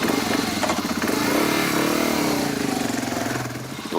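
A motorcycle engine sets off in a busy street, a close, loud, steady mid-pitched engine drone with a throbbing rhythm that eases slightly at the end.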